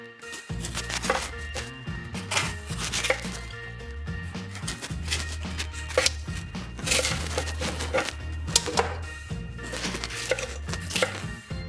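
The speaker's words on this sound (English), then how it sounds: "Now I'm gonna slice it into sort of thin slices" A knife slicing vegetables thinly on a cutting board, quick repeated chops in an uneven rhythm, close and clear, with light clatter of dishes.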